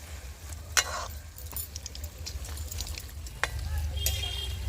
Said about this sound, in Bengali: তো আরও একটু লাল লাল করে আমি ভেজে নেব